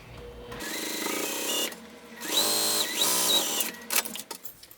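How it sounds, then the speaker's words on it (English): A sewing machine top-stitches a satchel in several close, whirring bursts that rise and fall in speed, with brief pauses between runs and a few clicks at the end. "I'm going to go ahead and top stitch mine now"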